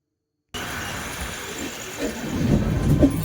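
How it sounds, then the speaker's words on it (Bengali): Low, steady rumble of the Gaya Garib Rath Express pulling out of the station, building gradually with rattling and clanking that grows louder toward the end. "ট্রেন ঠিক টাইমে ছাড়ছে তিনটা পঞ্চাশ মিনিটে"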